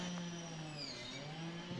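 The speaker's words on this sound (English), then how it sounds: "They're running chainsaws over there." Chainsaws running far off across a harbor on the Mississippi River near a Coast Guard ship, a faint steady whining drone with a wavering pitch over quiet ambience.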